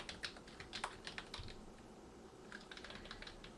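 Rapid typing on a computer keyboard while coding a MadLibs game in the Repl.it online editor: close, crisp clicking in irregular bursts with a short pause midway, no voices.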